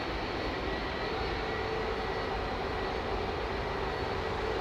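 A Boeing 787 Dreamliner departs from runway 09R with a steady, loud broadband jet roar lasting several seconds, heard from some distance across the airfield with no talk.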